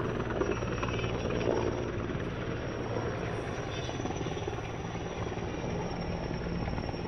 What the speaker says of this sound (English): there's this chopper that keeps coming by and dipping into a lake that's not too far from us and picking up its water